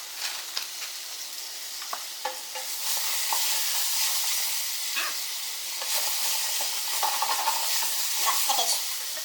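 Chickpeas and frozen vegetables frying in an oiled pan, a steady hissing sizzle that rises as the food goes in, with clicks and scrapes of stirring throughout.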